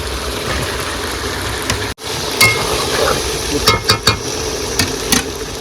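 Fried potatoes go into a sizzling pan with salt and turmeric while cooking on a boat, a steady fry hiss under sharp clinks and scrapes of a spoon stirring against the metal pan.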